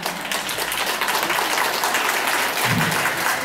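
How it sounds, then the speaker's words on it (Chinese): Dense, loud applause from an audience at an art exhibition opening, welcoming a teacher to the stage, with sustained clapping throughout and little talk. "我们掌声欢迎我们蓝香老师的台前来好不好"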